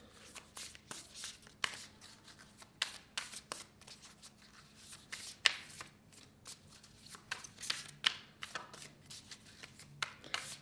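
Oracle cards being shuffled by hand, a quiet, close run of rapid riffling flicks and soft card slaps in irregular bursts, with no talking.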